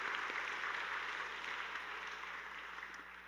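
A church congregation claps together during a Sunday service, a faint, even wash of many hands heard from a distance, steady and slowly tapering off.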